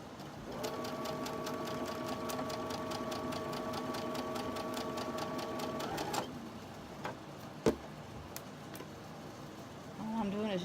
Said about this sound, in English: we can go ahead and chain stitch these.